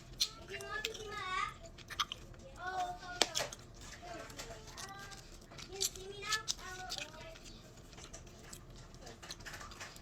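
Close mouth sounds of someone chewing a piece of bubblegum with a Gushers fruit snack: wet smacking and soft squelches come in irregular bursts, with faint murmured voice in places.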